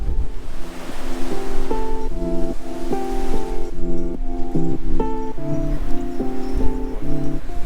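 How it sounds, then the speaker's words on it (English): Strong wind blows across an off-grid homestead as loud, continuous gusting roar that fills the whole clip, with faint ringing tones layered over it. "Wind is crazy."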